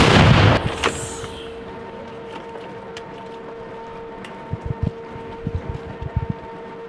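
A loud, sharp artillery gun blast on the front line in Ukraine opens, then a long fading rumble and echo, followed by scattered softer thuds and knocks.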